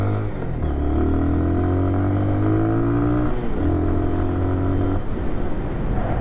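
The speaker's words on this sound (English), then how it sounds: "See, it's not very fast, but it is quick. Like, it accelerates pretty nice." A 2022 Lifan KPR 200 motorcycle accelerating on a ride, the engine loud and near and climbing steadily in pitch through the revs, easing off briefly before pulling up again.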